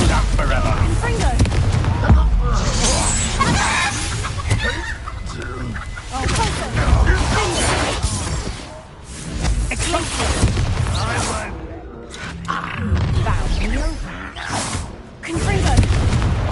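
Repeated fiery Confringo blasting-spell explosions in a Hogwarts Legacy combat fight, bursting at intervals through a dense, busy battle mix with other magical effects and voices.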